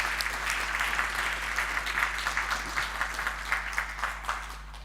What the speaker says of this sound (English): Quick round of applause and then we'll do some questions.